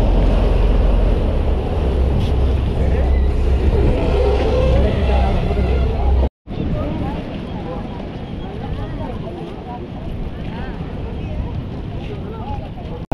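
A boat moves slowly toward the pier at Kanyakumari, and its engine gives a continuous rumbling drone mixed with wind buffeting and water noise. A brief dropout occurs midway.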